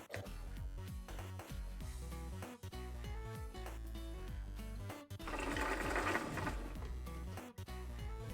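Sewing machine stitching fabric loops for a DIY top, rapid rhythmic mechanical whirring in bursts with brief pauses, close and clear, no talking.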